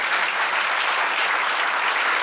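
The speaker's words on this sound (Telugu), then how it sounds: "చప్పట్లు కొట్టండి గట్టిగా" A church congregation claps loudly and continuously, a dense wash of applause with no voices on top.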